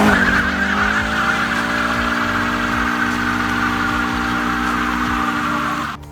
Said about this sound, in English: just doing burnouts